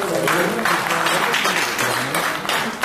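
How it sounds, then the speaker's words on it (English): Audience applause fills a conference auditorium, a dense, steady wash of many hands clapping at once, loud and sustained throughout. "People who are here, should we retry the clapping therapy?"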